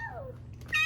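A person imitates a kitten's meow: one rising-then-falling mew close to the mic, followed by a brief brighter squeak at the end.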